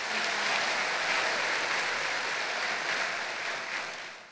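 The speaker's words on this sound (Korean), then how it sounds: "다시 한번 감사 박수 드리겠습니다." Church congregation at a prayer retreat gives a dense, sustained wash of applause in thanks to a pastor, even and full throughout, tapering slightly at the end in a large reverberant hall.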